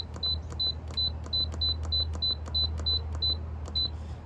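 Instant Pot beeping as its buttons are pressed to set a pressure cook time, a quick series of about a dozen short, evenly spaced electronic chirps over a steady low hum.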